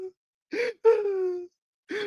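A voice imitates heavy panting in a few short, breathy gasps separated by pauses, one drawn-out and voiced like a groan, close and fairly loud with no other sound around it.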